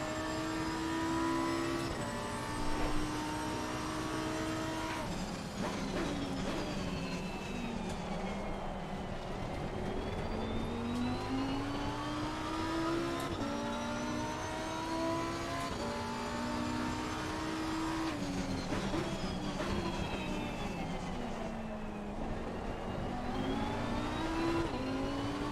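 A Ferrari 488 race car in the Assetto Corsa Competizione racing game roars continuously, its engine note rising and falling through repeated gear changes and revs for the whole stretch, with no talking.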